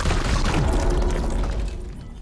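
A weapon shot in the Warhammer 40,000: Chaos Gate - Daemonhunters video game: a single loud, heavy boom with a deep rumbling tail that fades over about two seconds, heard alone.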